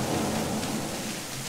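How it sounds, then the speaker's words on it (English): A thunderstorm at the Cancun Lagoon mini golf course in Myrtle Beach, SC: a steady, close wash of rain hiss over a low, continuous thunder rumble, with no voices. "I'm so glad we came inside to avoid the storm."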